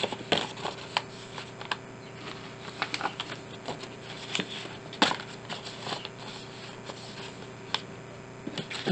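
Paper ripped by hand for a grungy journal page, heard as a scattered run of crisp, irregular tearing and rustling crackles at close range, with no talking.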